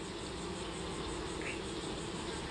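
Bees drone steadily around an open hive during installation from a nuc into a ten-frame box, a dense continuous buzz with a brief closer pass from a single bee midway.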